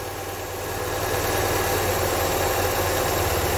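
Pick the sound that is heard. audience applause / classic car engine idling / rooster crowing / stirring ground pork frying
classic car engine idling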